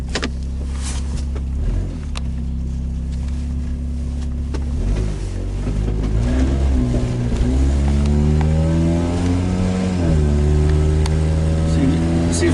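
A 2005 Honda Accord pulls away on a road test after tie rod end and wheel speed sensor work, its engine note rising through the gears with a steady low rumble and tire hum from inside the cabin.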